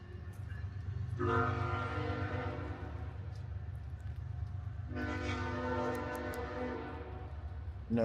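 A train rumbles past in a small Missouri town, its low steady roll continuous while a loud horn blares in two long blasts, the second after a short gap, fairly close and unaccompanied by talk.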